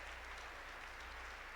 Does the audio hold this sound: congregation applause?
yes